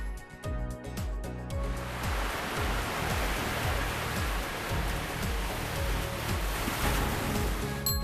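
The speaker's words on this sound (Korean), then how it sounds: "파도 소리," Recorded ocean surf played as white noise, a broad steady roar of breaking waves that swells in after a quieter opening and holds at an even, moderately loud level, with a soft low rhythmic undertone and no talking.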